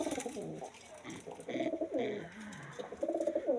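A pigeon coos repeatedly nearby, soft throaty rolling calls in short bursts with brief pauses, fairly quiet against a calm background.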